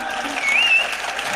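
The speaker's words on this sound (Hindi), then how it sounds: "जरा गीत सुनना चाहते हो तो एक बार जोरदार तालियां बजाओ।" Audience applause at a Hindi comic poetry recital (kavi sammelan), a steady wash of clapping from a seated crowd, fairly loud and continuous for over a second with a faint whistle-like tone briefly riding over it.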